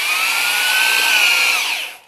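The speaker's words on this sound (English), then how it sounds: "we're going to drill it with this letter R, not number R, letter R." A power drill bores steadily with a letter R bit while rebuilding a hydrostat on an old Cub Cadet, a loud close whining drone that holds level and then winds down at the end.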